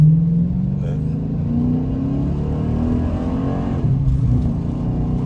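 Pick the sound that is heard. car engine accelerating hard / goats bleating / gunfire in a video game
car engine accelerating hard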